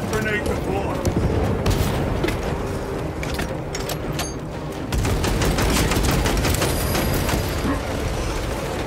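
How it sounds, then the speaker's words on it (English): A frag grenade explodes during a Space Marine 2 video game battle: a heavy boom lands amid continuous rattling gunfire and bursts, loud and dense, with voices mixed in. "Frag grenade deployed."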